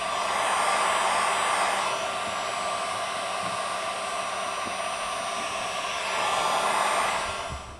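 A heat gun blows a steady, loud airy roar while warming tint film on a car light, running continuously with slight swells in intensity and no talking.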